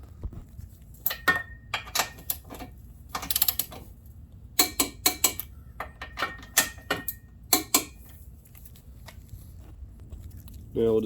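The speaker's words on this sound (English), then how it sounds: "I'm going to be torquing these to 35 foot-pounds" Ratchet wrench clicking in short bursts while the top engine mount bolts are fastened on a 2013 Dodge Dart 1.4L during an engine and transmission replacement, with quick metallic ticks repeating up close and brief pauses between strokes.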